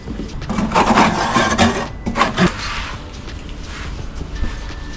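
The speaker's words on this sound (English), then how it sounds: "scrape the bucket out, finally" Flowpoint patio grout is scraped out of a bucket with a tool, producing loud, rough scraping strokes in bursts through the first half before settling into quieter rubbing and knocking.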